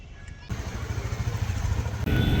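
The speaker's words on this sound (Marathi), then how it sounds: "आता मी चालले बाहेर बुलेट सोबत" A Royal Enfield Bullet motorcycle engine runs steadily up close, its low thumping exhaust pulse continuous throughout, with a brief dip and a louder, rougher burst near the end.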